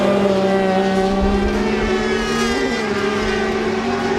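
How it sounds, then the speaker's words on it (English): A rallycross car with a low-revving 850cc engine drones continuously with a steady, buzzy engine note and loud, sustained running, close by with no talk. "You can hear one of these cars is running an 850cc engine, can't you? It's the low revving noise compared to the high revving 750."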